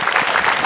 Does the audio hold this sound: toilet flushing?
no